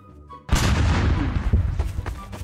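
A Mark 82 bomb from a Garry's Model sandbox bombs mod explodes on a large map, a loud sudden boom followed by a long rolling echo that decays over about two seconds with scattered crackles.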